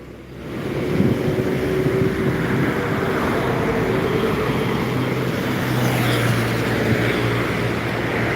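A long truck passes close on the road, its engine and tires giving a sustained loud rumble with a low drone that grows stronger toward the end, with no one talking.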